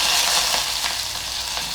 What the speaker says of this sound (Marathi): मी इथे मिरच्या उभ्या चिरून घेतलेल्या आहेत त्या घालते थोडासा कढीपत्ता